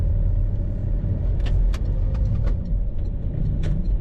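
A car drives along a rough, poorly surfaced road, its interior filled with a loud, steady low rumble of tyres and engine, broken by a few sharp rattles and knocks from bumps; no one talks.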